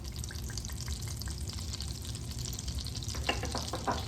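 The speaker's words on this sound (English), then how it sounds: "And I'm going to go ahead and just add a little splash of olive oil." Butter and olive oil sizzle quietly in a hot pot, a soft steady fry with a few sharper crackles and spatters near the end, fairly faint and with no talking.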